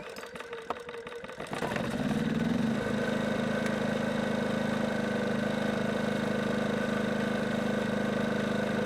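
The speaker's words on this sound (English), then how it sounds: "Now we're going to crank this up. We're going to let it run for about a minute." A Ryobi 2300-watt generator is pull-started after a brief rattle, then settles into a steady, loud, even running hum that drones on unchanged with no voices.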